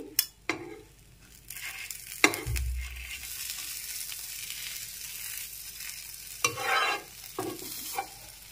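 Patishapta pitha frying in a pan, with a soft continuous sizzle and a few clinks and scrapes of a spatula against the pan. No speech.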